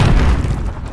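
A heavy, rumbling grenade blast in the Call of Duty video game, loud and close, with a deep boom that fills the whole second and slowly fades without any voices.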